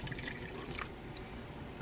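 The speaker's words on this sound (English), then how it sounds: "you want to put just enough water in" Water pours into a cooking pot over pineapple pieces to cover them, a soft continuous trickle with faint splashes and drips, alone and fairly quiet.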